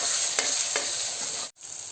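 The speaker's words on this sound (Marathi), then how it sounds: "टोमॅटोही छान परतून घ्यायचा आहे आपल्याला." Chopped tomato frying with onion in a pan, a close steady sizzle with a couple of sharp spatula scrapes and a brief pause as the mixture is stirred.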